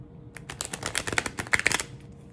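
A quick riffle shuffle of a deck of tarot cards, a fast flurry of crisp flicking clicks lasting about two seconds, close and fairly quiet.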